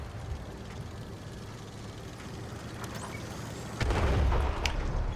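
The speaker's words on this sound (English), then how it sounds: "And artillery shuts it down just before I can get there" Artillery fire in the World of Tanks console game: a heavy, low boom lands about two-thirds of the way through and rumbles on over a steady wash of battle noise, with no talking.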